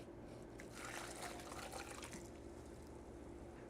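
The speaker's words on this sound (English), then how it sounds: "And now we should be able to just pour the rest in." Enchilada sauce mixture pouring into a blender jar, a steady close liquid splash and trickle running continuously without pause, no talking.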